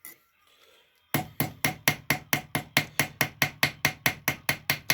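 A ball peen hammer pounds hot copper flat on a hard surface, striking in an even, steady rhythm of about four sharp, ringing blows per second after a brief quiet start.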